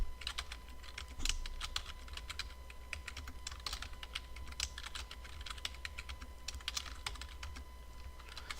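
Steady typing on a computer keyboard, quick irregular key clicks close by, with a faint low hum underneath and no voices.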